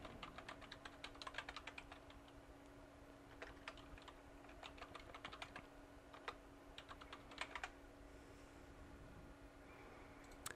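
Keys on a computer keyboard are typed in quick irregular bursts of soft clicks while a password is entered, over a faint steady electronic hum, with a short pause between bursts.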